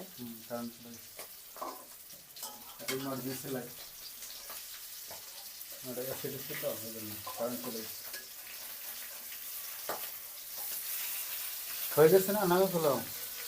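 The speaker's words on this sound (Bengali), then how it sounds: "এই যে কিভাবে তেল ফুটতেছে" Fish frying in bubbling hot oil gives a continuous soft sizzle and crackle throughout, while voices talk intermittently over it.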